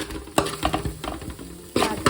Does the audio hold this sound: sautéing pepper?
yes